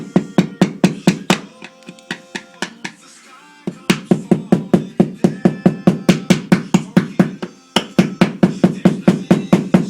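Cracked gel coat on a boat hull is struck with quick, regular knocks to break off loose pieces; loud, close taps repeat steadily with a brief pause partway through.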